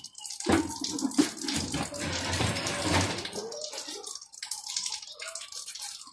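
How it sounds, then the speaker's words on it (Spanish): Water poured into a blender jar for a homemade herbal remedy, a short splashing pour starting abruptly and trailing off into quieter trickles and drips, close and alone. "vamos a poner su agüita. Una pequeña porción."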